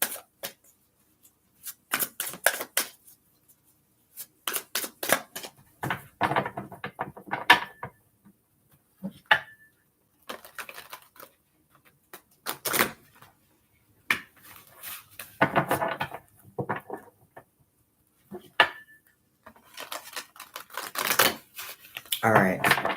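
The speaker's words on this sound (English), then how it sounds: "Let's give it a couple good shuffles though." Tarot cards are shuffled in repeated bursts of quick riffling and flicking clicks, close and crisp, with short pauses between rounds and no talk over them.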